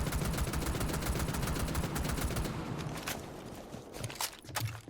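An SR25 rifle fires in Rainbow Six Siege, a fast run of sharp repeated shots through the first half that thins into a few scattered later reports, fairly loud and close, with no talk.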